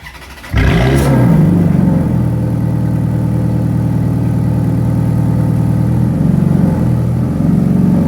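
A Ferrari engine starts abruptly and then runs loud and steady, with a deep sustained rumble and slight changes in pitch.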